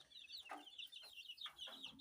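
Hens and young chicks of the Tiger breed clucking and cheeping close by in a small flock of about fifty, bursts of calls spaced irregularly over a steady backdrop.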